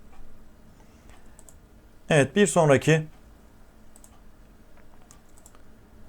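A few faint keyboard key presses tap in the background around a brief burst of speech, soft and scattered.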